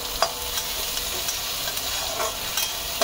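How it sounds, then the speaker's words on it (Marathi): Chopped onion sautés over low gas in a pan for paneer tikka masala, a constant crackling sizzle with light stirring scrapes and a couple of soft utensil taps, close and even throughout. "आता या कांद्याला छान मस्तपैकी असं गुलाबी रंग येईस्तोवर आपल्याला तो परतून घ्यायचा छान."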